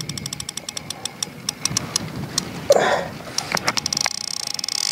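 A fishing reel's drag clicks out in sharp ticks that speed up into a rapid, continuous buzz as a large bream takes line on a lake feeder rig, with a brief exclaimed voice midway.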